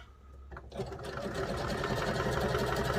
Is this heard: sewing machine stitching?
yes